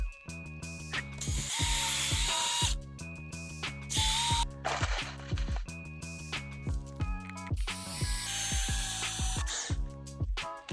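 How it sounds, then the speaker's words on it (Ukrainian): A power saw cuts thuja wood at an angle in several loud, harsh bursts, separated by ratcheting mechanical clicks and humming motor tones, close and without talk. "Ріжу туй на скосяк"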